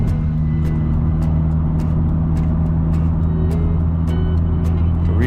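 A supercharged Jaguar F-Type cruises along an open road, its engine giving a steady low drone with road and wind noise throughout, loud and close from inside the car, punctuated by faint ticks.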